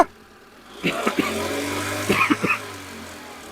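A used car's engine idles, then several short revving bursts surge up and drop away in quick succession before settling back to a steady, close idle with no talk.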